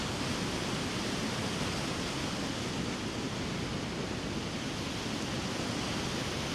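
Floodwater rushes past a bank's edge, making a steady, loud wash of broadband noise that splashes continuously with no pause or voice.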